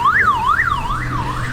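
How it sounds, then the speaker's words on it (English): A CAN bus car alarm siren installed in a vehicle wails loud and close, sweeping up and down in a steady repeating rise and fall with no pauses. "that's a siren we've installed. It's a CAN bus alarm"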